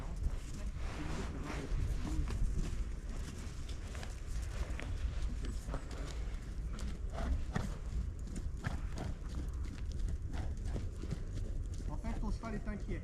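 A horse walking during an equine coaching session, its hooves clip-clopping in an irregular rhythm on the ground, moderately close but soft, with people talking over it.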